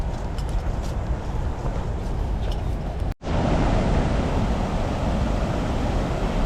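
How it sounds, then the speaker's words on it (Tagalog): A strong water current near a waterfall rushes in a loud, steady broadband roar, unbroken except for a brief cut midway. "Parang lakas ng agos."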